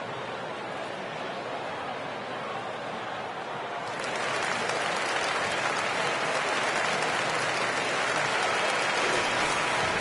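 Crowd applause and cheering from an NBA 2K22 basketball game, Heat versus Hornets on PS4, a dense steady roar that swells louder partway through and holds.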